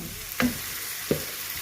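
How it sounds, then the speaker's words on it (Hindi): Masala fries in a pan for a kaleji liver dish, a soft steady sizzle broken by two quick scraping stirs. "और थोड़ा हमारा मसाला जो है वो तकरीबन भुन चुका है।"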